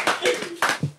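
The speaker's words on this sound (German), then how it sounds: "Und der Applaus, der muss eigentlich für die Mama sein" A handful of people clap briefly in a few short bursts on a TV flea-market show after a successful sale, fairly close and mixed with some voice sounds.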